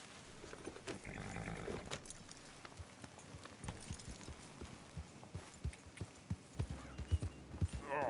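Rapid, uneven clip-clop of horse hooves in Red Dead Redemption 2, steady and fairly close, with a low rumbling ambience underneath and no talking.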